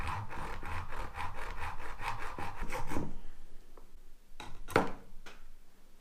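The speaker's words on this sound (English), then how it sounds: "be very careful when you do this, because it is very easy for the saw to slip and make scratches on the center conductor" A hand saw rasps back and forth through Cellflex LCF12 coaxial cable in a steady run of about a dozen quick strokes, close and scratchy, then stops, leaving a few lighter scrapes and knocks.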